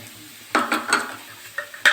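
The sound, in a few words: frying ground cauliflower in a pan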